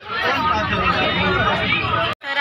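Crowd babble at a busy bus stop for the Mount Mary Basilica fair in Bandra: a dense, close wash of many overlapping voices and chatter, continuous and fairly loud, with a brief dropout near the end.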